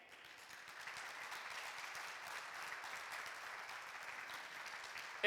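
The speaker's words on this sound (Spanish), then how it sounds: "Si usted lo cree, dele un aplauso al Señor." A church congregation applauds steadily for several seconds, a soft, distant wash of many hands clapping that stays even throughout and ends abruptly.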